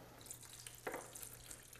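Sample water sloshes and splashes faintly while lab equipment for measuring salinity is rinsed, with one brief, slightly louder pour near the middle.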